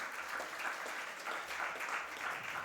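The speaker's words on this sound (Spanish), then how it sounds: "un aplauso para Diego." A seminar audience applauds in a faint, steady patter of many hands clapping, distant and even throughout the short stretch.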